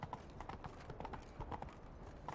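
Horse hooves clip-clopping in the video game The Witcher 3, a steady quick rhythm of hoofbeats at a gallop, faint but continuous and heard alone.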